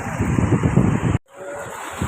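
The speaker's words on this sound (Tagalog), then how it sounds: "Lakas yung alon." Strong waves surge and wash loudly with heavy wind buffeting, cutting out abruptly for a moment before the rough water noise resumes.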